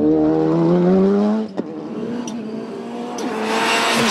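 A Ford Fiesta race car sweeps through an indoor course of S-bends, its engine note loud and close and bending in pitch as it lifts and takes a corner, then climbs again in a rising roar.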